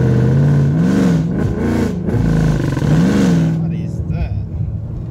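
A 2018 Whipple-supercharged Mustang GT with tune problems revving in short bursts, its engine note rising and falling loudly and close by, sounding rough, then settling toward idle at the end.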